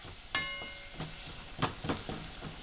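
Sofrito of raw herbs heating and sautéing in a pan, a steady sizzle broken by several sharp clicks and scrapes of a wooden spoon, fairly close with no voices.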